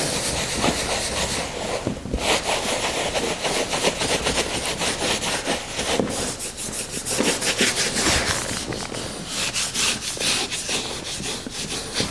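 Steady rubbing that scrapes away glue on a laminate floor repair, a continuous close, loud, gritty friction with fast repeated strokes and no pause.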